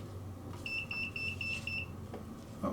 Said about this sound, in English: I have no idea what that beeping was